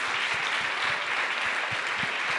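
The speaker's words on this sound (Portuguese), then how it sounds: "Palmas para Jesus." A church congregation in Brasília claps together, a continuous, even wash of applause from many people that holds steady without pause.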